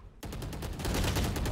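Automatic gunfire in a shooter video game starts abruptly and then rattles on as rapid, evenly spaced shots, loud and close for just over a second.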